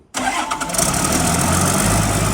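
An excavator engine fitted with a replacement motor starts after a brief silence. It catches quickly with a loud cranking burst, then settles into a steady, close idle rumble.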